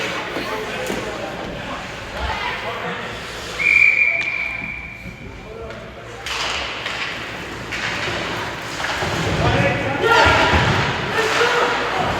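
A referee's whistle gives one sharp, sustained blast during a youth U12 ice hockey game. A commentator talks over the rink noise, which is full of thuds and stick and puck clatter.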